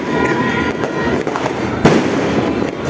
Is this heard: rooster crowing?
no